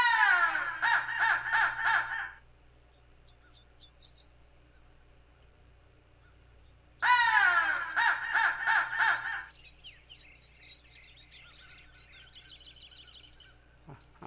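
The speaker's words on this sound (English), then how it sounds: "I hear crows." Crows cawing near a food plot during a wild turkey hunt, two loud bursts of rapid repeated caws separated by quiet, with fainter calls continuing between and after.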